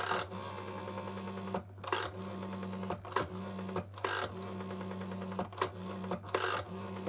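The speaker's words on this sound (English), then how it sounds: "It's got a nice sound to the dial." Rotary dial of a 1980 GPO R82 Special Range Mickey Mouse telephone, cleaned, whirring through several returns with a steady hum beneath and short breaks between each spin, close and alone.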